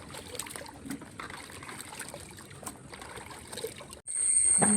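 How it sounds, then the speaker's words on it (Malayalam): Water trickles and drips in a soft crackling stream off washed kudampuli fruit, fairly close, then a brief pause before a high, steady electronic-sounding tone takes over. "ഇതിൻ്റെ വെള്ളം ഒന്ന് തോരട്ടെ കേട്ടോ."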